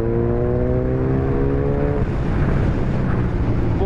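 Kawasaki 1000cc superbike cruising in sixth gear, its engine loud and close with a steady drone that shifts pitch partway, wind roar building, no talk over it.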